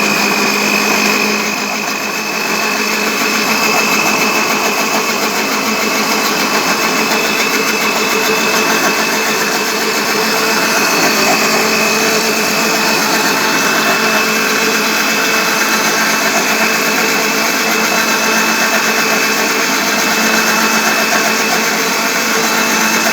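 A countertop blender whirs continuously at high speed, blending peach, banana and milk into a smoothie, a loud steady motor whine with little variation.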